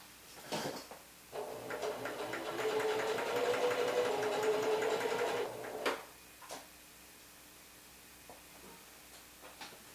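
A sewing machine stitches a French seam on a shirt, a steady close mechanical whir running for about four seconds, preceded and followed by small clicks and handling knocks of the fabric and machine.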